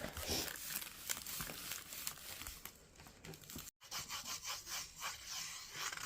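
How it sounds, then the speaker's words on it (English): A toddler's finger scraping lines through sand on a rainy day indoors, a soft continuous rubbing and scratching with faint gritty patter, close and quiet. "That's nice drawing in the sand, Anaya."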